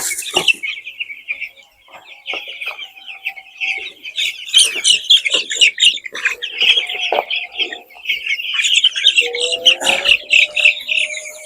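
Nine-day-old broiler chicks in a brooding pen peep and chirp in a busy, overlapping chorus, with occasional louder squawks rising above the steady twittering.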